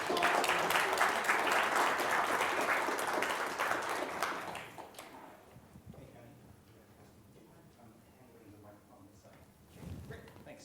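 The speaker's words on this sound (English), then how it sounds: "Give them a round of applause." Audience members at a university public debate clap loudly for about five seconds; the applause then fades into quiet room noise with a few faint sounds and a brief bump near the end.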